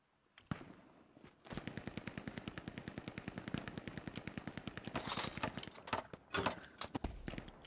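Rapid automatic gunfire in the World War II shooter Hell Let Loose, bursts of steady rhythmic shots running nearly the whole time, loud and close, with heavier cracks and distant explosions mixed in toward the end.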